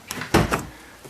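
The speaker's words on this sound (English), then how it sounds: "Can I close the door?" The door of a 2015 Jeep Wrangler JKU, fitted with a Rock Hard 4X4 sport cage, is swung shut with one solid, close thud and a short rattling follow-through.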